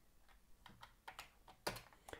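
Keys clatter on a Colour Maximite computer keyboard in short, uneven bursts of crisp clicks, with a louder cluster near the end, close and clear in a quiet room.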